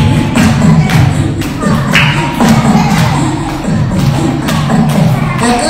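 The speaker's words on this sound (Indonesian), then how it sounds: "Tepuk tangan bilang ha-eh-ha" A room full of children clap their hands and cheer at a lively Islamic children's gathering, producing a dense, loud patter of claps with shouting voices in rhythmic bursts throughout.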